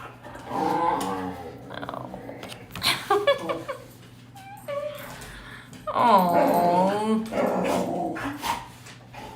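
Dogs whimpering, yipping and barking in excited bursts close by, mixed with a person talking to them.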